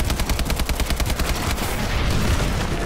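Rapid automatic gunfire in the Advanced Warfare Exo Zombies game, a close burst of quick repeated shots that stops partway through, leaving a lingering rumble.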